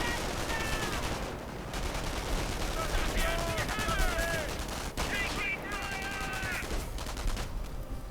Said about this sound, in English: Engineers here getting pummeled by the support gunners for the MG42 Veterancy 3.